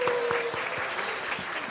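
A church congregation claps loudly and steadily during a Sunday service ceremony at Hyangrin Church, with a dense, continuous patter of many hands and no talk.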